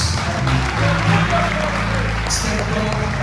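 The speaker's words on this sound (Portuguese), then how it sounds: "aplauda o nome de Jesus." A church congregation applauding during a communion service, steady clapping heard alongside voices and low background tones.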